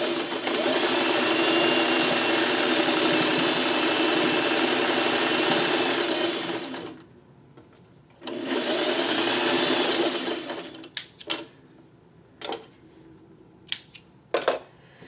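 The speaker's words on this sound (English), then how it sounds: "because I want to sew in the center" A sewing machine stitches fabric in two long, loud, steady runs, close by, followed by a quieter stretch of short mechanical clicks and brief bursts.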